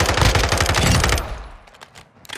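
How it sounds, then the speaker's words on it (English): Rapid automatic gunfire from Call of Duty: Modern Warfare 2 in DMZ mode, a loud burst of fast shots lasting about a second, then a few fainter distant shots as it dies away. "I'm already getting shot at."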